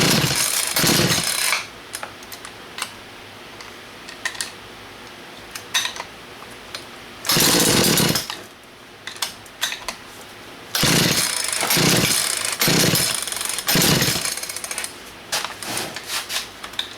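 A Craftsman 16-inch chainsaw pulled from a junk pile fires in loud, ragged bursts, sputtering and cutting out between revs, with clattering handling noises in the gaps.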